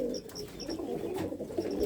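A pair of Punjabi pigeons coo softly and repeatedly in a close, steady murmur, with a few faint higher chirps above the low burbling calls.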